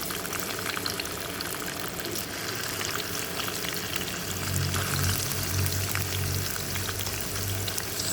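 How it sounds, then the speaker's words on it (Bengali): Potatoes fry in hot soybean oil in a village-style home kitchen, giving a steady, dense sizzle and crackle throughout with no talking. "তেল গরম হয়ে গেছে, এখন এখানে দিয়ে দিচ্ছি আলু"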